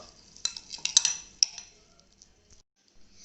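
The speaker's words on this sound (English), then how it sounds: "Add hung curd, again give it a well stir." Spoon stirring hung curd into a cheesy sandwich mixture in a bowl, a few soft scraping clinks close by over about a second and a half, then quiet with faint taps.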